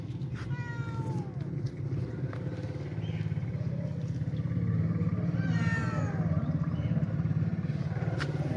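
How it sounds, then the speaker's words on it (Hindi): A cat meows a few times, drawn-out and plaintive, over a steady low engine rumble nearby. "लगता है कोई बिल्ली है"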